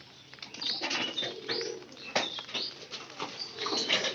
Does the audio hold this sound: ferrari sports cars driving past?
no